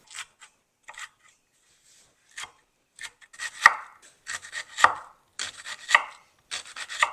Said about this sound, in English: So I went ahead and chopped up my asparagus